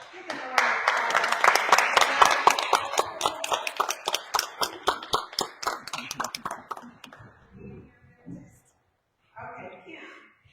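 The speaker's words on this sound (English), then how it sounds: "Give them a round of applause." A room of realtors at a Dayton zoning and housing forum claps as members stand, with sharp, dense clapping that thins out and fades after about seven seconds before a voice speaks.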